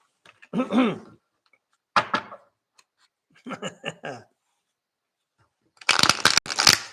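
Tarot cards being picked up and handled: brief rustles and taps, then a louder burst of rapid card shuffling and riffling near the end, close by, with a short stretch of voice early on.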